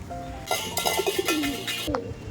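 Pigeons coo in a few soft, low, wavering calls while drinking water, close by, with a brief voice or chirp near the end.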